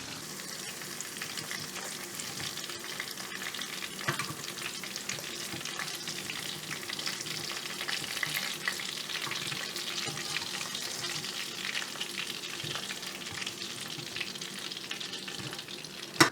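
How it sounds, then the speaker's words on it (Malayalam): Prawns deep-fry in hot oil for restaurant-style chilli prawn. The oil gives a continuous, crackling sizzle at an even, close level throughout, with faint occasional stirring and no talk. "നമ്മൾ കൊഞ്ച് മൊത്തം വറുത്ത് കോരി വെച്ചിട്ടുണ്ട്"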